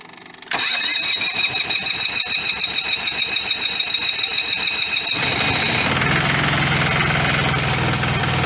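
An MEP 831A military generator engine cranks briefly, then catches and settles into a loud, steady, high-pitched running drone, close and continuous with no talk.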